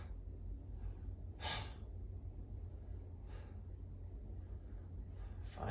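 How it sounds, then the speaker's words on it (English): Effortful breathing during a bioenergetic exercise: a few forceful, audible in-breaths spaced seconds apart, close and fairly loud, with softer exhales between and no talking. "The effort's on the in-breath. Exhale just falls out."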